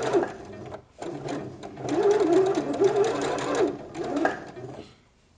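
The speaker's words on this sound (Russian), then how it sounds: "Делаем закрепку. И строчим по кругу." A sewing machine stitches in a circle around a summer dress to form an elastic casing, its close rapid whirring running in bursts with a brief pause near the start and a fade at the end.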